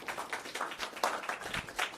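A student journalism event audience gives a round of applause, with many hands clapping in an uneven, continuous patter that sounds moderately close, with no talking over it.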